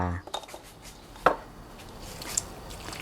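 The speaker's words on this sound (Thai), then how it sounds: "หั่นชิ้นพอดีที่เราต้องการนะครับ ชิ้นพอดีคำวันนี้ใช้ 200 กรัมครับ" A knife cuts pork belly into bite-size pieces on a cutting board, 200 grams in all. A few sharp, separate knocks of the blade ring out close by over quiet kitchen background, with no talking.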